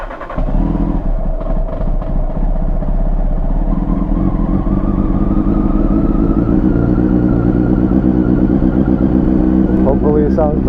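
A Honda CBR929RR motorcycle engine idles and revs unevenly while nearly out of fuel, a loud close rumble with sputtering, clattery irregularity throughout, and a voice talks over it.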